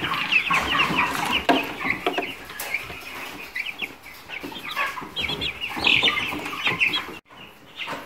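Ross 308 broiler chickens, 21 days old, cluck steadily in a poultry house, a dense flock chorus of overlapping close calls with no talk.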